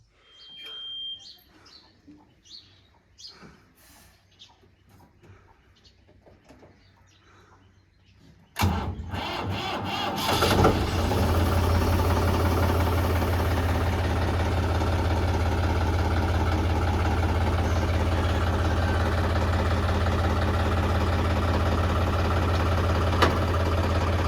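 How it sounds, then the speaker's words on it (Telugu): A combine harvester's engine cranks and fires up after quiet rustling and handling noises, then settles into a loud, steady idle with a constant low rumble and a high whine. "ఈ బండి అయితే స్టార్ట్ చేద్దాం"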